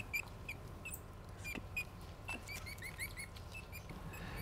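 Cotton-top tamarins call in a zoo enclosure at Taronga Zoo Sydney, a string of short, high, thin chirps and whistles repeating irregularly over a low, steady background hum, moderately close but faint.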